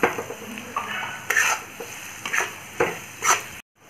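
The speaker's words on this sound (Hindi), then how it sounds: "तो अब मैं इसमें डाल देती हूँ ये कटी हुई शिमला मिर्च और इसको अब मैं प्याज के साथ थोड़ी देर भूनूंगी।" Chopped capsicum and onion sizzle in a pan for egg fried rice, with a steady frying hiss broken by several scraping stir strokes, close and moderately loud, before a sudden cutoff into silence.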